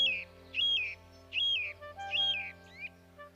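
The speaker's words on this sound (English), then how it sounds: "I heard a thrush singing most sweetly in the big beech tree" Thrush singing in a big beech tree: a series of clear, sweet whistled phrases repeated about every half second, moderately close, with a low steady hum underneath.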